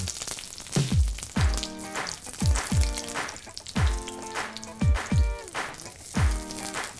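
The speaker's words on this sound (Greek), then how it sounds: "και να τηγανίσουμε τις μελιτζάνες ώστε να πάρουν ωραίο χρώμα." Eggplants frying in plenty of hot oil in a pan give a steady, close sizzle and crackle, with repeated sharp pops and bursts spaced through the whole stretch.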